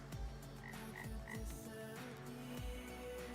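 A frog croaks repeatedly in the video game Lost Records, giving several low, throaty pulses at uneven intervals amid a quiet ambient backdrop, fairly faint and without speech.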